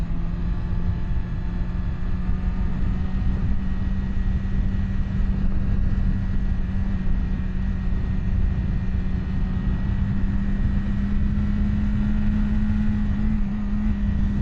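A 2024 BMW S1000RR superbike being ridden, heard as a loud, continuous engine drone with a steady hum and a rushing wash of wind, with no distinct gear changes standing out and no talking.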